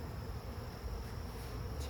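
Honey bees buzz continuously around a new hive during a mid-June inspection, a dense, even hum with a faint passing whine near the end.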